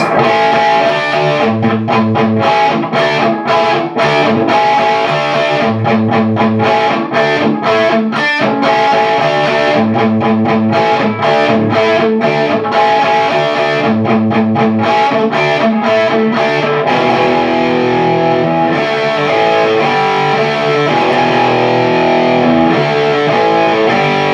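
A distorted electric guitar plays the driving, rhythmic bridge riff of a rock song, with repeated chugging figures, loud and steady throughout with no voices.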